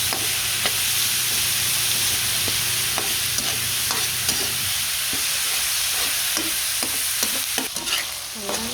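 Ground meat fries in a pan with sautéed onion and garlic, a steady loud sizzle running throughout, broken by repeated scraping strokes of a spoon stirring it.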